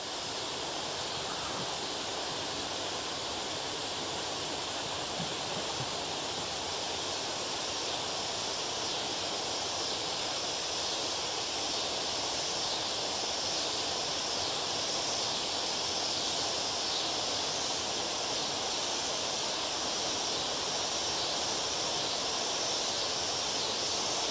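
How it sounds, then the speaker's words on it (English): A distant waterfall gives a steady, even broadband roar, faint and unbroken throughout the evening, with no voices. "And you can hear that third waterfall."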